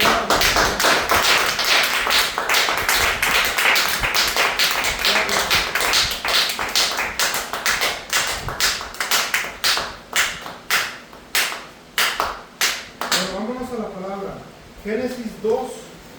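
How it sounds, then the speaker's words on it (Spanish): A church congregation claps for the Lord, a loud, dense burst of many hands that thins into scattered separate claps before voices take over near the end. "Denle un aplauso al Señor."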